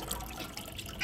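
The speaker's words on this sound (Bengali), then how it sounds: "এখন আর একটা ধোয়া দিয়ে নিতেছি মাংসটা।" Raw meat being rinsed by hand in a basin of water while cooking at an outdoor picnic, giving a steady, soft sloshing and splashing at moderate distance with no talking.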